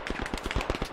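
Rapid bursts of machine gun fire in the WWI shooter Beyond the Wire, a steady clatter of close shots repeating several times a tenth of a second, loud and dense with no voices over it.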